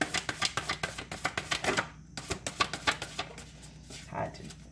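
Cards are shuffled in a quick riffle of rapid, crisp flutters, a brief pause, then a second riffle, close by under soft background hum.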